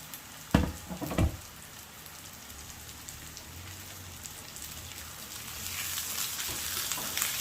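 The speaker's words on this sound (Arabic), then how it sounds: "غادي نخلطها مع البصله باش يتجانسوا، ومره كنحرك مع اضافات اخرى" Chopped liver and onion fry in a pan with a dense rain-like sizzle, opened by two heavy scraping stirs near the start, then a continuous hiss that swells slightly toward the end.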